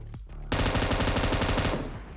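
Automatic gunfire in the battle-royale game PUBG: a loud, dense burst of rapid shots hammers on for over a second after a brief quieter lead-in, then tails off.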